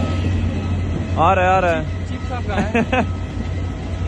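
A Delhi Metro train rumbles in with a low steady hum and rattle, while people talk nearby over the noise.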